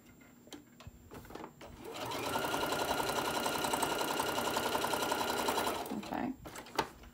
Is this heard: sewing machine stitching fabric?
yes